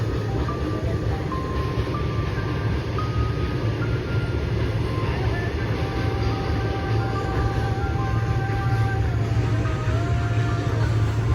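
A train hauled by five locomotives rumbles steadily and loudly nearby, near Kulem station, with deep engine drone and faint high metallic squeals drifting over the continuous noise.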